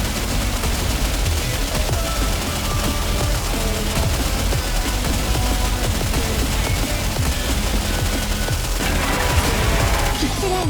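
Rapid gunfire from the NIKKE video game, a dense continuous fusillade of machine-gun bursts mixed with game music and effects, loud and unbroken throughout.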